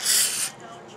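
Aerosol brake cleaner sprays onto metal in one short, loud hissing burst that stops abruptly, ahead of cold bluing.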